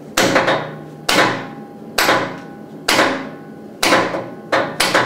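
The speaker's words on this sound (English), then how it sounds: "Looks like we're really doing abuse to the hammer, but we're not." A hammer strikes something solid in a steady series of about seven loud, ringing blows, close by, with each impact decaying before the next.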